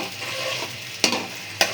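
Sliced onions fry in hot oil, a soft continuous sizzle broken by two sharp spatula strokes scraping the pan close by.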